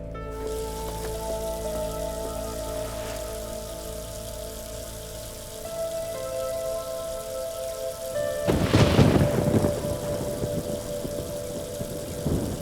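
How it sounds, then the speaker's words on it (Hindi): Thunder rumbles over steady rain falling on surfaces as a storm begins, with a loud crack and roll of thunder partway through while the rain keeps hissing. "बारिश शुरू होने वाली है।"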